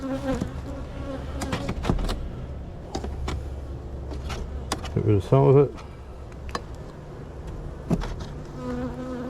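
Bees buzz steadily close by as a beehive is opened and burr comb and propolis are scraped off, with occasional tool scrapes and knocks and someone talking over the hum throughout.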